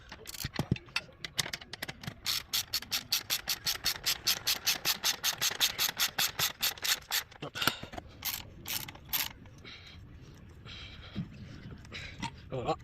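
A clamp on a Citroën C4 Picasso exhaust pipe is tightened with a ratcheting tool, producing a fast run of sharp regular clicks that slows and breaks into scattered ratchet strokes near the end.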